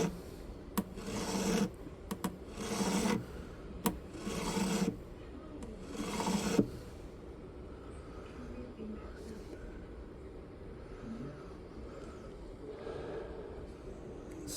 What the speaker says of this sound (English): Still got a little bit of filing to do in this one spot here.